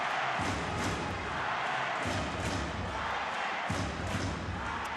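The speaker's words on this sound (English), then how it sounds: "Listen to this crowd." Dense, steady roar of a volleyball crowd in an arena during a Japan vs. Thailand World Championships match, with repeated low thumping bursts like drumming or thundersticks pulsing under the sustained noise.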